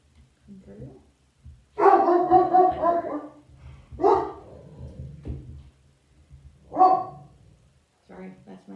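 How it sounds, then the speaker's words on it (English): A dog barks indoors, a few separate loud barks and yips spread over several seconds with quieter whimpers between, close by, while a person talks quietly. "Sorry, that's my dog."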